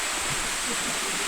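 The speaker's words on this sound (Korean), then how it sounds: "연달아 2단으로 떨어지는 2단 폭포인" Deungnyong, a two-tier waterfall dropping in two successive stages on a mountain trail, roars as a steady, dense broadband rush of falling water, close and loud, with no voices.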